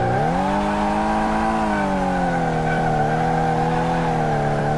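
A car drifts with a sustained, loud tire squeal in the Car Mechanic Simulator game, the tonal screech holding steady with slight pitch dips throughout and no talk over it.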